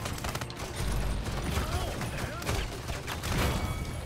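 Rapid shotgun blasts and clattering weapon mechanisms in the video game Paladins, dense and continuous gunfire layered with game effects, loud and close throughout.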